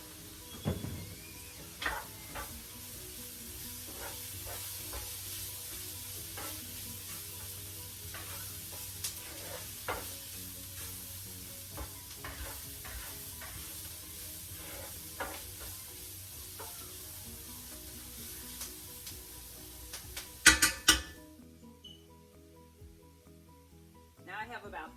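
Seasoned vegan pot pie filling is stirred in a pan, a steady soft scraping and sizzle running continuously with irregular clicks of the utensil, ending in a few louder knocks.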